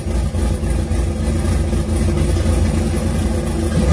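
A car engine roars steadily at high revs against an MSD two-step launch limiter, the button held down with the throttle floored, a loud continuous drone with slight stuttering pulses.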